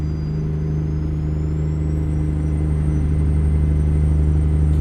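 A Kenworth W900 truck engine in American Truck Simulator drones steadily and loudly throughout, a deep even rumble with a faint rising whine above it.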